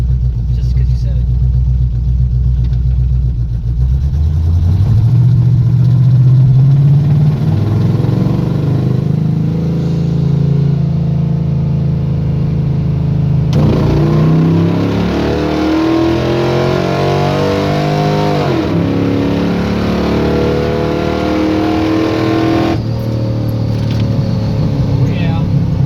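A SquareBody Chevy drag truck's engine idles with a deep, rough rumble, then revs up and settles in repeated rising and falling pulls, loud and close, with people talking around it.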